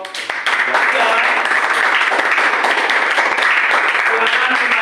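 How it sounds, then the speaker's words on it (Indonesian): A classroom group claps together for the third student group, producing loud, dense, steady applause that starts abruptly and carries on with voices mixed in underneath. "beri tepuk tangan buat kelompok 3"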